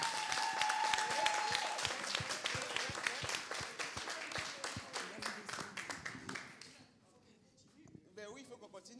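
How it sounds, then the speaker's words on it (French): An audience at a community launch event in Les Mureaux applauds itself, loud clapping with a cheer early on, thinning to a few scattered claps before fading, with voices heard near the end. "Applaudissez-vous"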